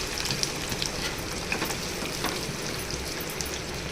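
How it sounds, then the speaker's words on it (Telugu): Onions sizzle and crackle in hot oil with cumin and mustard seeds in a clay pot, a steady, soft frying hiss with small pops throughout. "కొంచెం వేగనివ్వాలి."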